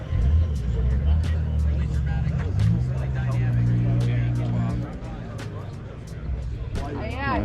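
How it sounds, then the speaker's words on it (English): A supercharged V8 in a full drift car at an outdoor car show rumbles close by with a deep, steady idle that briefly climbs in pitch, while people talk and a crowd murmurs in the background. "Supercharged V8."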